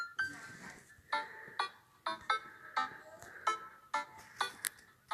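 A mobile phone rings with a repeating electronic ringtone, about eight bright pulses in quick rhythmic succession, moderately quiet and heard without talk over it.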